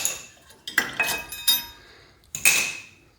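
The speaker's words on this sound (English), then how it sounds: "Take our pads" Rear brake pads on a Mazda Miata being pulled from the caliper, producing a few sharp metallic clinks and scrapes in quick bursts, close and fairly quiet with pauses between.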